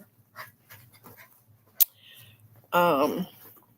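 Several dogs play nearby with soft panting, scuffling and faint whimpers, then a louder whining vocal burst near the end.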